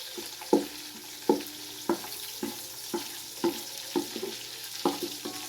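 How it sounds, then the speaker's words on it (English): Onions frying in a pan until golden brown, a soft steady sizzle broken by about a dozen rhythmic scraping and stirring knocks from a utensil against the pan, close and alone without talk. "I let the onions be golden brown."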